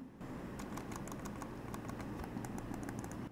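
Rapid, crisp clicks of a cheap imitation Logitech mouse button repeat close up, quiet and dry, in an uneven rhythm with no talking.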